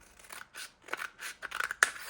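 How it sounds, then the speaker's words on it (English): Scissors cut through collage paper in several short, crisp snips with brief pauses between them, the last snip sharpest. The sound is close and there is no talk. "Then I take a pair of scissors and I cut as straight as I can."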